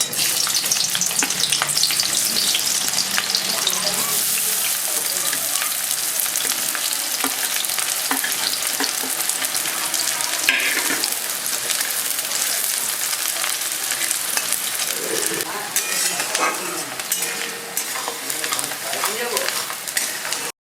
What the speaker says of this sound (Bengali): তেল গরম হয়ে গেছে আমি দিয়ে দেবো কুচো পেঁয়াজ